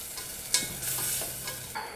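Onion and celery sautéing in a pan for stuffing, a steady soft sizzle with a few clinks and scrapes of stirring, fairly quiet and close with no voices.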